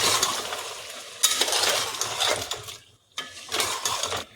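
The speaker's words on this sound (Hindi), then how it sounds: "इसको अच्छे से भून लेंगे अदरक लहसुन का पेस्ट डाल के।" Ginger garlic paste fries in a pan for a white chicken gravy, with loud, close bursts of sizzling and spoon scraping that drop out briefly before resuming.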